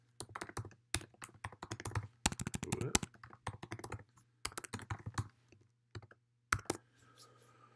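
Quick bursts of computer keyboard typing while code is written, crisp close-up key clicks in uneven clusters separated by short pauses, with a faint steady hum underneath.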